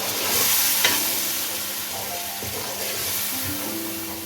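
Spices, chopped green chillies and yogurt fry in a pan for matar pulao, sizzling steadily with the occasional stir and scrape of a spoon. The sound stays close and even throughout, with no talk.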